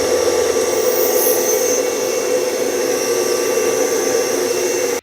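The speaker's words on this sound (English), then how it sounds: "I'm going to do some additional shaping on my sander here" A sander shapes wooden book page holders, giving a loud, steady whirring roar with a gritty abrasive hiss held close and constant, then cutting off abruptly at the end.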